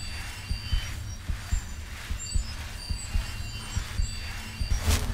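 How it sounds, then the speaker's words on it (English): A steady thumping heartbeat effect plays while a healing spell is used in Skyrim, a regular low double pulse repeating about every half second, loud and close over a humming game background. "I just noticed that heartbeat sound effect when you use heal"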